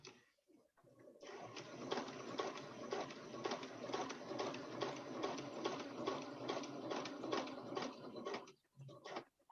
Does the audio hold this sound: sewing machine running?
yes